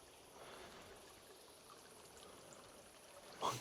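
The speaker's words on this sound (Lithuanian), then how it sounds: "Eina tiesiog upelis." A small stream flowing through a Lithuanian area hit by a storm, heard as a soft, steady trickle and babble close by, with a brief louder splash or bump at the very end.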